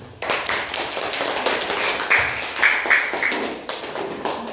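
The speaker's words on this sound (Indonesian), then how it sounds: "Iya, tepuk tangan." A group of students in a classroom claps hands together in a short burst of scattered, uneven claps close by, with a few brief voices rising faintly underneath.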